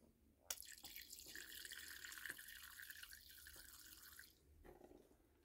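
Water is poured into a pet spider's small water bowl, a faint, close trickle and splash lasting a few seconds, with a few drips at the end.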